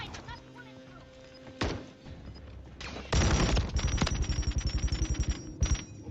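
Light machine gun fire in Call of Duty: Modern Warfare III: scattered single shots, then a long rapid steady burst of loud rattling rounds with a short final volley, over quieter game sounds.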